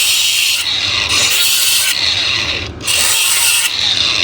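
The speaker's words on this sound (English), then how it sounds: "Grind a little rust off there." An angle grinder grinds rust off metal, a loud, steady, harsh hiss-whine that pulses slightly as the disc presses and lifts, briefly easing near the middle before resuming.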